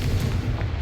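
A Confringo fire spell blasts off in Hogwarts Legacy, a dense, booming burst with a heavy low rumble that fills the brief moment, loud and close.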